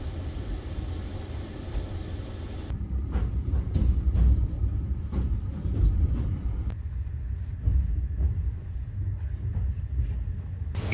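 A night train runs along the rails in southern Russia, heard from inside the carriage as a steady low rumble with faint rattles and clunks, loud and continuous with no talk.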